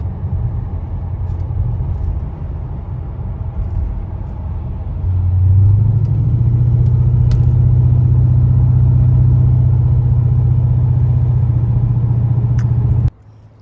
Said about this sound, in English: We're gonna go take this thing for a test drive, see what it does.